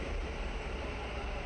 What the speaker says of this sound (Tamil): பாருங்கள், ட்ரெயின் வந்துகிட்டே இருக்குது, ஒன்று போயிட்டே இருக்குது.